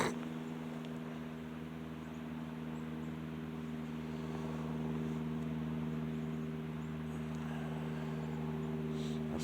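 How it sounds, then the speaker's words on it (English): A big box truck drives along the street, its steady low engine rumble and drone holding close and fairly loud throughout, with faint traffic noise above. "Okay, so I got a big box truck. Thing's a fucking monster."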